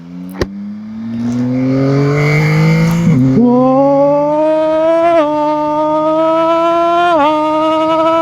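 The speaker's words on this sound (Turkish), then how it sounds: "Durup dururken ara gaz veresi geliyor insanın." A 2021 Yamaha Tracer 9 GT motorcycle accelerates hard and close, its engine note climbing steadily through several gear changes with brief dips between them, loud and sustained.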